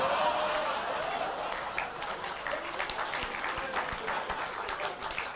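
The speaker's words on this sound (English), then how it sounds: "don't applaud that" Audience applause in a lounge show, a steady wash of clapping from a room of people that carries on at moderate level throughout with faint chatter and laughter.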